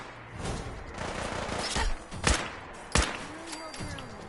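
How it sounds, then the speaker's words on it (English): Gunfire in the Fallout video game, a few sharp shots and short bursts popping out over a busy background, with someone speaking briefly in between. "Sounds like the same gunfire I was hearing"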